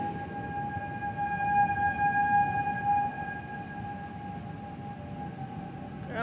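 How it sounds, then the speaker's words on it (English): A civil defense tornado warning siren wails as a steady, sustained tone that swells and then holds, heard from a distance with no one talking. "That alarm, that siren sounds like a Roblox horror game."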